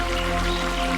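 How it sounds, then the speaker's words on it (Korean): Water drops fall onto rocks beside a small, gently flowing stream, making a steady, close, bright dripping and trickling with no voices. "물방울이 바위에 부딪히며 맑고 청량한 소리를 만들어냅니다."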